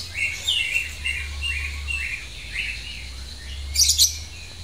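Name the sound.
lovebird singing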